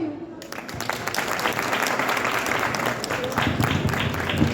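Audience applause fills the hall after a children's play about Savitribai Phule, dense steady clapping starting abruptly and holding at a loud, even level throughout with some voices mixed in.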